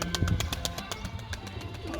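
Pigeons coo in low, throaty rolls close by, mixed with a run of sharp, evenly spaced clicks or taps that repeat across the moment.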